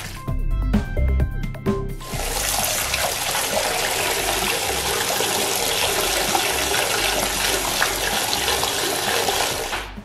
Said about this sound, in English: now I'm going to run some water over this